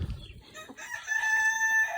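Chickens cluck and call close by, one drawn-out crowing note rising over the softer clucks in a brief burst.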